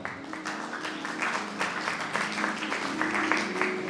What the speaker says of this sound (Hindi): सिर्फ जोरदार तालियां